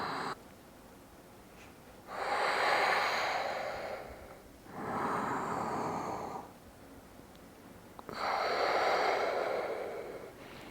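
Slow, deep breathing in a vinyasa yoga class, with three long airy breaths heard close and alone, separated by quiet pauses.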